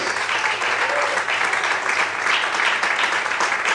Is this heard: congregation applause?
yes